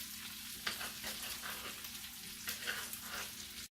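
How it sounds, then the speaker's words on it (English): Zucchini and tomatoes sizzle and fry in bacon fat in a keto stir fry, a steady crackling hiss with light scraping stirs, close and unbroken until it cuts off abruptly. "So now we just added one of the zucchinis in there, and my daughter is adding the tomatoes."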